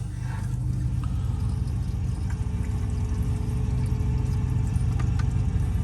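Hot water runs from the tap of a Suburban Advantage tankless water heater as a steady, close rushing pour with a low rumbling undertone and occasional faint clicks throughout.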